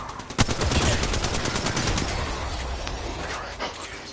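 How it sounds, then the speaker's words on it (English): Pistol fire in a video game: a loud sharp shot rings out, then rapid cracks of gunfire rattle in quick succession before a final isolated shot near the end. "These pistols are insane."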